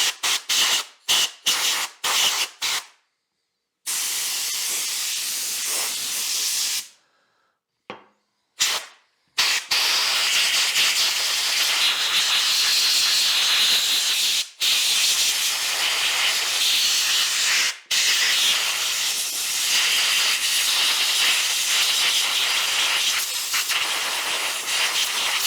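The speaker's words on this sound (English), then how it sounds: "Cover your ears, air blast coming." Compressed air blasts into a DeWalt 1/4-inch hex impact driver with loud, harsh hissing. Several short bursts come first, separated by silences. Long sustained blasts follow, broken only by brief pauses.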